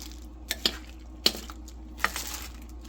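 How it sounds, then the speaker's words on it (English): Potatoes cooked with onion soup mix in a slow cooker are stirred with a utensil, a few distinct clinks against the pot over a soft, steady background hum, close by. "So I'm going to give my potatoes a final stir."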